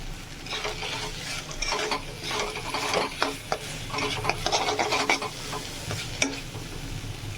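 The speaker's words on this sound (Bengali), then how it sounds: "কম আগুনে এটাকে ভালো করে ভাজবো" Dried fish and tomato chutney frying slowly over low heat in a pan, a steady soft sizzle with repeated scraping strokes of a spoon stirring through it, close and continuous with no talking.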